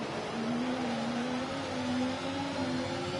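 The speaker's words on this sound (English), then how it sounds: "if there was a Formula One engine that I could describe as depressed, it's this one" A Formula One car engine in the F1 24 video game drones at a steady, flat pitch with little change in revs, a smooth continuous whine with no talk over it.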